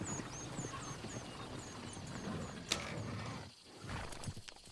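Horses' hooves clip-clop in steady rhythm in the video game Red Dead Redemption 2, close and clear over an outdoor ambience with faint bird chirps and a brief sharp knock midway.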